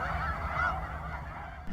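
Snow geese freshly arrived on the Fraser and Skagit River deltas of the Salish Sea give a single faint honk that floats over a steady, murky rumble of wind and distant flock noise.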